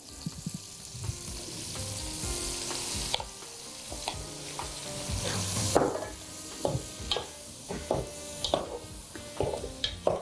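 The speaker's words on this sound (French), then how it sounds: "on met notre poulet qu'on va faire revenir, on va faire cuire avec notre oignon" Chicken pieces sizzling with onion in a pan for an Algerian dish, a steady fry broken by repeated scraping stir strokes and occasional utensil clinks, close and fairly loud with no talk.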